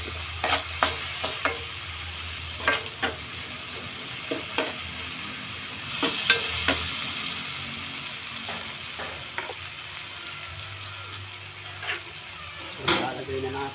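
Soy sauce sizzling with fish in a frying pan while a utensil stirs, giving steady frying hiss broken by repeated scraping clinks; a voice speaks briefly now and then.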